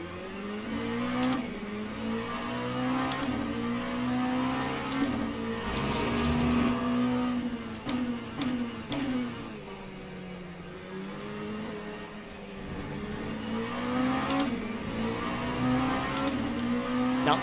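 In Le Mans Ultimate, a GT3 race car's engine howls at sustained high revs, dipping and rising in pitch through shifts and corners, loud and continuous with occasional gear changes.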